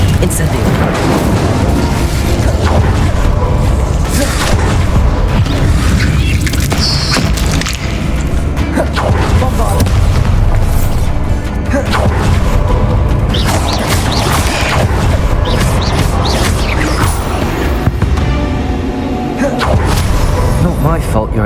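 Confringo and Incendio fire spell blasts in Hogwarts Legacy, repeated booming bursts and crackling impacts in a dense, loud combat mix, with a voice shouting over the action.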